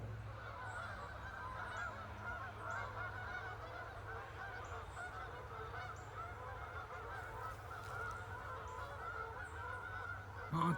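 A flock of geese honks during a late-season hunt, faint distant calls from across the woods over a steady low outdoor hum, with no talk.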